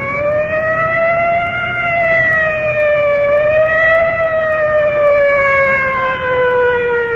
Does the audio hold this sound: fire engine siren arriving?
yes